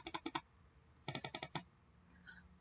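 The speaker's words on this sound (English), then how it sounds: "So if I triple click on this side," Quick, close mouse clicks land in two tight bursts, a short cluster and then a longer run of sharp taps, with quiet gaps between them.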